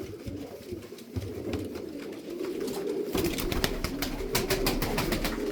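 Tumbler pigeons coo and flutter in a loft, a steady busy murmur of calls close by, thickening and growing brighter in the second half.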